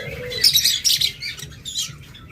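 Adult pet birds kept for sale, such as lovebirds, budgerigars, Java sparrows or cockatiels, chirp and tweet in a busy overlapping chorus close by, with bright repeated calls over a low background hum.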